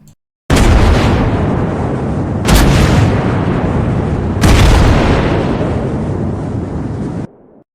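In World of Warships Blitz, a battleship's big guns fire three thunderous salvos, each overlaid with the deep Wisconsin rumble. The booms sound loud and close, with long rolling tails and no voices.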